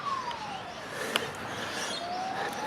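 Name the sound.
emergency vehicle siren passing, ambulance or fire engine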